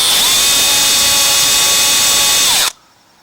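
Thin drill bit boring out the jet of a Husqvarna ST224 snow blower carburetor, a loud, steady high-pitched whine held for over two seconds before cutting off abruptly.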